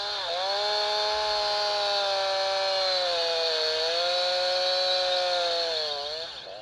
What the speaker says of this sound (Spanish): Después vaya introduciendo la hoja en el árbol.